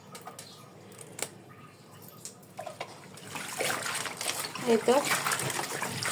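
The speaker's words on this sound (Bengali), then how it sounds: "তো শাক কয়টা আমি ধুয়ে নেই।" Homegrown leafy greens are washed by hand in water in a home kitchen: quiet at first with a few light drips and a single spoken word, then splashing and swishing water swells and continues loudly to the end.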